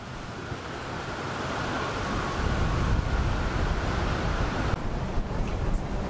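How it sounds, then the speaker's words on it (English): Heavy wind by a river buffets the microphone in a continuous broadband roar, swelling slightly louder partway through, with no voices. "right now it's really windy"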